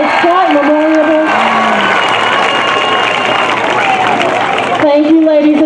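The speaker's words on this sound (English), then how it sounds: "please give all of our seniors a round of applause" A crowd at a high school football game applauds and cheers for the seniors, a loud continuous wash of clapping and voices, with an announcer's voice heard over it at the start and end.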